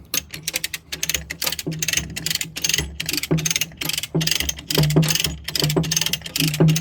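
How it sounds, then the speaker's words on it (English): A hand ratchet is cranked to tension a skid steer's rubber track, giving close, loud, rhythmic clicking strokes in quick bursts, with short pauses between pulls. "And now we'll just crank it up, and this piece will go over there."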